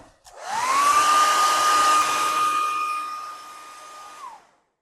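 A hair dryer drying paint on paper switches on with a rising whine, then blows a loud, steady, close roar for about four seconds before cutting off.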